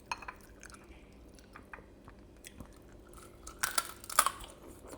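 Air-fried pork belly, lechon kawali style, crunches loudly in close-up chewing with crisp bites and wet mastication. The crunches grow louder toward the end, with no talking.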